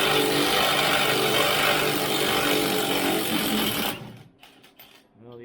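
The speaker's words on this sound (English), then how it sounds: "Might have to get the air impact out for this. These steering gear bolts are usually pretty tight." An air impact wrench loosening steering gear bolts on a 2015 3500 dually during pitman arm replacement, a loud continuous buzzing rattle lasting about four seconds before cutting off, followed by faint clanks.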